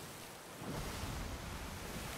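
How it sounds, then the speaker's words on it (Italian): Rough, choppy sea waves in the Sea of Thieves game roll in a continuous loud wash of surf, swelling midway and staying dense throughout with no voices. "Va bene il mare mosso."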